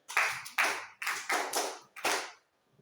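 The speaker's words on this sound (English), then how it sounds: "Clap for yourself." Five short bursts of clapping, each a quick flurry that rises and fades, with brief pauses between them, like a small group clapping in rhythm.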